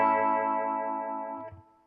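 Humbucker pickup wired in series, played through a Warm Audio Mutation Phasor II: a single sustained electric guitar chord with a slow phaser sweep that rings out and then cuts off near the end, with no voices.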